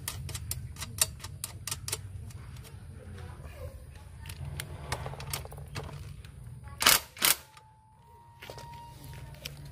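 A screw driven into a children's bicycle kickstand gives a run of small, quick ticking clicks over a low hum, then two louder clunks near the end.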